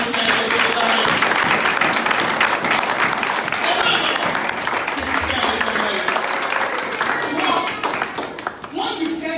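A church congregation applauds loudly to acclaim God, with sustained dense clapping that fills the space and tapers slightly near the end, while voices call out underneath.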